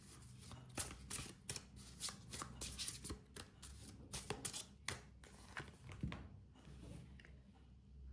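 Tarot cards being shuffled and arranged, a run of quick crisp riffles and soft slaps repeating irregularly for several seconds, faint and close, with no talking.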